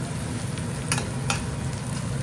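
Onions fry in hot oil in a separate pan for tempering, giving a steady close sizzle with a couple of brief scraping stir sounds.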